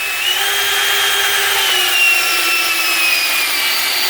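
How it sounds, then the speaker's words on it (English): A DeWalt drill driver in low gear drives a screw into wood without a pilot hole, producing a steady, close whirring grind with a rising motor whine as the screw bites. "Dewalt starting off, once again no pilot hole. Let that bite."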